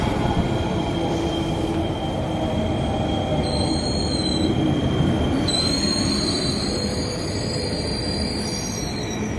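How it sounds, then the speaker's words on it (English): A tilt train arrives at a platform with a steady low rumble, and high metallic wheel squeals ring out twice, the second longer and sustained, close by. "my tilt train arrived."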